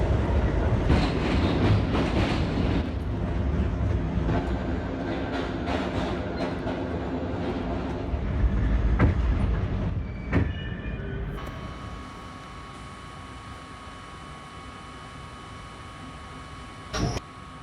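An R38 subway car on the A line runs along the rails, a loud continuous rumble with rhythmic clatter over joints that drops away into quieter hum and a brief sharp clank near the end.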